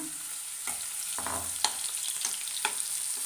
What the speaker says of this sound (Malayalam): ചെമ്മീൻ വേഗം ആവും അപ്പോൾ പെട്ടെന്ന് തന്നെ നമുക്ക് അത് വറുത്തെടുക്കാം ഒറ്റ ട്രിപ്പിൽ തന്നെ വറുത്തെടുക്കുകയാണ്